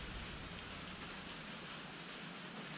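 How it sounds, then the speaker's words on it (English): Steady, faint rain hissing evenly while fishing from a dock on Lake Taneycomo, a soft continuous wash with no other distinct sounds. "That's rain."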